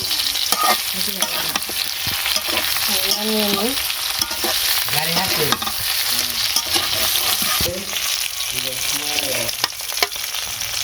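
Steady, dense sizzle of fish frying in hot oil runs throughout, with scattered spatters and occasional clinks of a utensil.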